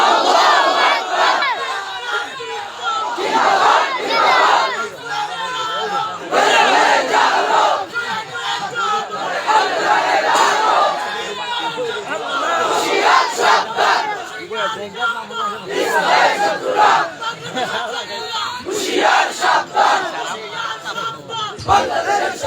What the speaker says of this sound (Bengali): আপনাদের মধ্য থেকে একজন যুবক দাঁড়িয়ে স্লোগান দেন